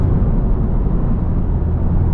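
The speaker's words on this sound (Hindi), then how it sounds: "और इस गाड़ी का साउंड भी आप चेक करें" A Honda Civic drives along with its engine running, a steady loud low rumble of engine and road noise heard from inside, continuous and even with no voices.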